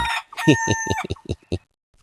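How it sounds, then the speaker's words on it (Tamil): A rooster crows in a drawn-out, broken call with several loud, close bursts, then stops, leaving near silence. "சூரியன் காலை வேளையில் சேவல் கூவிக்கிட்டே"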